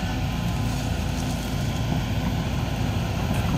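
A Kobelco SK200-10 excavator turning in a canal, its engine a steady, loud, dense rumble that holds constant throughout.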